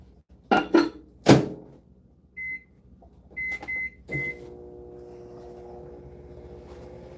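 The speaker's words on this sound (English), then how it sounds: "put it back in the microwave for a little bit longer" A kitchen microwave oven used while making fishing soft baits and weights: a few clattering knocks, some short electronic beeps, then a steady low hum as it starts running.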